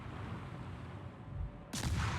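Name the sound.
submarine L-20 deck guns firing in naval video game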